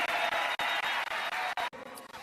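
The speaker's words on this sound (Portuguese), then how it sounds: "E eu peço para ele uma salva de palmas pela luta da liberdade do" A large outdoor crowd at a political rally in Copacabana, Brazil, claps and cheers in a steady, dense roar that swells and dips briefly before fading slightly toward the end.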